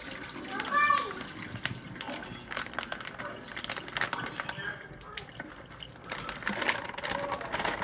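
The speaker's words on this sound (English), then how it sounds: "our first step is going to be to rinse our shrimp with cold water" Peeled, deveined tail-on shrimp rinsed under cold running tap water in a kitchen, a steady close splash and trickle lasting throughout with a brief higher clink near the start.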